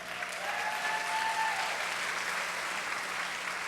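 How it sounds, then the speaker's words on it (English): An audience applauds steadily for a former Harlem Globetrotter's talk; the clapping is soft and somewhat distant, holding evenly for the whole stretch without voices over it. "Give me a big round of applause."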